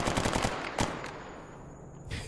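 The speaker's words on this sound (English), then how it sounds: "Rogue, you can start shooting things." Rapid automatic gunfire in the STALKER Anomaly video game comes in a fast close burst followed by a single sharp shot, then a ringing tail and a faint later crack.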